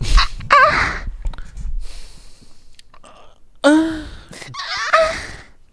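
A man does a duck-like throat-clearing imitation in several rough, honking, gasping squawks with short pauses between them, loud and close, in a lively studio setting.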